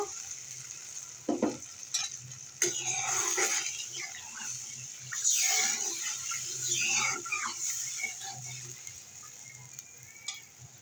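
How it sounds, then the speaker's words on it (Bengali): Water poured into hot, frying spice paste for a tomato tilapia curry, setting off sharp sizzling bursts that settle into a steady bubbling hiss close by, with occasional stirring. "এবার আমি জল দিয়ে দেব পরিমাণ মতো"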